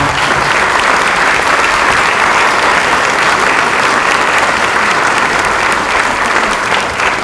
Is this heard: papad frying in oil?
no